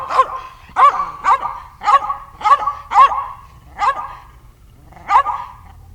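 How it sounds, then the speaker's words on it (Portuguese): A dog barks about eight times in a steady, evenly spaced series, each bark sharp and close, with no other sounds around it. "o som do cachorro"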